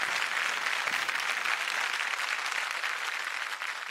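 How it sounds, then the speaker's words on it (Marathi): A studio audience applauds during a semifinal performance on a Marathi TV singing show, with a dense, steady wash of clapping that holds at full strength throughout and eases only slightly at the end. "एकदा जोरदार टाळ्या"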